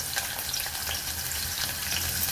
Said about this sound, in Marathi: आपलं तेल तापलेले जिरं घातले थोडस जिरं घातलंय